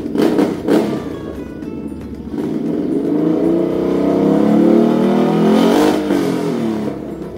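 Car engine with a newly fitted exhaust revving hard and loud close by, rising and falling through several throttle blips, with a short burst at the start and a long climbing rev in the middle.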